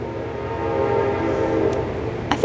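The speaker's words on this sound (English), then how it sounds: "It's just the Amtrak that shoots by really quickly" An Amtrak train speeds past outdoors in cold weather, a loud continuous rumbling roar with rail noise throughout and a sharp clatter at the very end.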